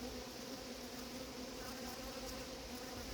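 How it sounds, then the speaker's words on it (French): A honeybee buzzes steadily and faintly as it climbs out of a bottle at an apiary on an island, a continuous thin drone with no voices over it. "Voilà, une abeille qui sort."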